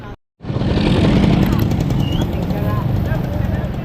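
A motorcycle engine, the bike used to haul sacks of cement, runs close and steady after a brief moment of silence, with people talking over it throughout.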